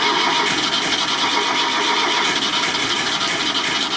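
A loud, continuous cranking of a ZAZ car engine on choke that fails to fire, a close, unbroken churning drone lasting the whole stretch.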